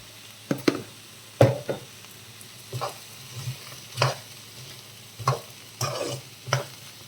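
Cluster beans stir-fried in a pan with turmeric and salt: a soft sizzle runs throughout, broken by repeated scraping stirs at an uneven rhythm, close and fairly loud.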